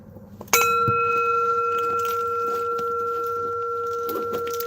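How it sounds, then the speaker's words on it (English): A bell struck once with a coffee cup rings out as a bright metallic strike, then settles into a steady sustained tone that fades slowly over several seconds, heard alone and close. "That's my bell. I hit it with my coffee cup today."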